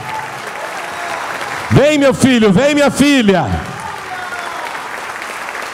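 A church congregation applauds steadily beneath a loud preacher's voice calling out in Portuguese. The clapping runs as a continuous wash in the background throughout.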